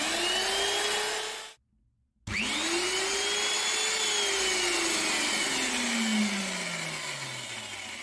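A whining AC electric drill motor driving a DC generator spins up loud and steady, cuts out briefly, then restarts with a rising pitch that slowly sags as it runs under load.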